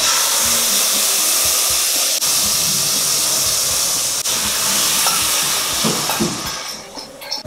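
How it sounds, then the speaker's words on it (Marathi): Lentils tipped into hot ghee for Goan Konkani mangane kheer, giving a loud, steady sizzling hiss close by that eases off in the last second or two. "तूप गरम झालेलं आहे, आपण डाळ टाकूया त्याच्यामध्ये।"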